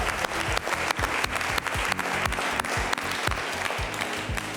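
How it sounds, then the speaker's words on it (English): A studio audience at a televised quiz competition bursts into sustained applause, with dense, lively clapping holding steady from start to finish. "he deserves a great round of applause"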